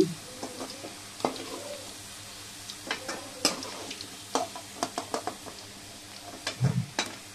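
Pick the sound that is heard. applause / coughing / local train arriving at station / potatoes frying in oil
potatoes frying in oil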